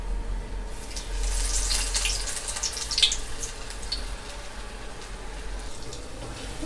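Green gram dal pakoda dropped into hot oil in a pan gives a steady, close, hissing sizzle with faint crackles and pops scattered through it.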